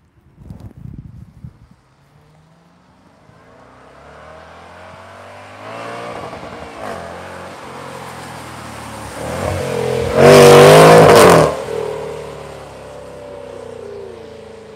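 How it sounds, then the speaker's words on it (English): A 2021 Jaguar F-Pace SVR on a wet, cloudy day in California: a brief burst of sound, then a low exhaust rumble builds and swells into one loud, sharp rev before settling back to a throaty idle, close by. "damn, that exhaust is beautiful"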